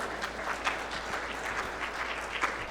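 An audience at a care services summit claps, a moderate, even patter of many hands at middling distance, fairly soft and sustained without a clear peak.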